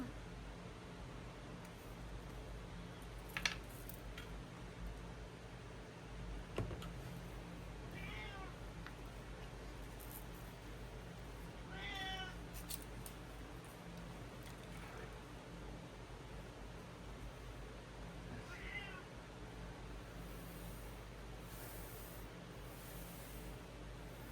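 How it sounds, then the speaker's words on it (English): A cat meows three times, spaced apart, with a few faint rustles against a steady low hum in an otherwise quiet room. "Kitty wants something. Probably attention."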